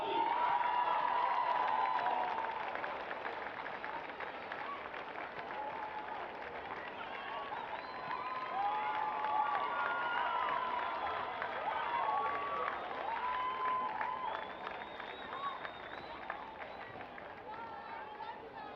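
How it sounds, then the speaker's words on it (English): A large crowd at a football grand final claps and cheers for the Best on Ground medal winner, sustained applause with whistles and a few shouts throughout, slightly distant and reverberant. "Another round of applause, please"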